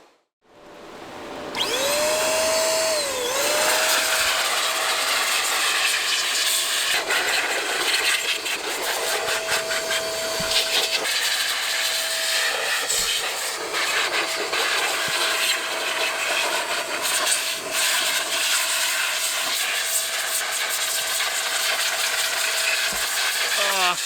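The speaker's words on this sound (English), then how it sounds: "But first, I need to blow the dust out of this rig." A loud, continuous blower roars as dust is blown out of a GPU mining rig in a barn, with a whining tone that shifts in pitch and scattered clicks and rattles over about twenty seconds.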